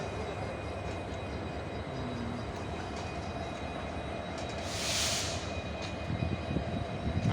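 Ambience at a nearly deserted Guwahati railway station: a steady low rumble of a train with a constant hum, a brief louder hissing swell midway, and a few faint knocks near the end, with no voices.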